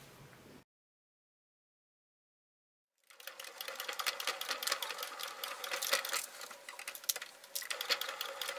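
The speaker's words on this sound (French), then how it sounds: "Et là, on va coudre à quelques millimètres du bord" A sewing machine runs steadily, stitching a few millimetres from the edge of a fabric card holder with 25 compartments, its close, continuous whirr starting after a short pause and carrying on unbroken.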